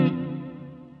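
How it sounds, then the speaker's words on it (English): Reverb trails from a 1970s-style reverb running into a vibrato effect, a short bright attack decaying into a wobbling, shimmering tail that fades steadily over about a second. "you can hear that the vibrato is affecting those reverb trails"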